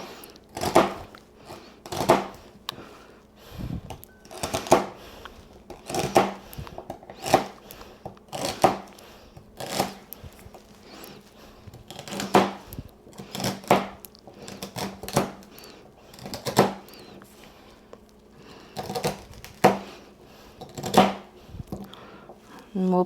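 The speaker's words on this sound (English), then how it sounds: "I'm just going to chop them up." Vegetables chopped with a knife on a cutting board, giving a steady series of sharp, close knocks in irregular rhythm over about twenty seconds, with quiet handling noise between strikes.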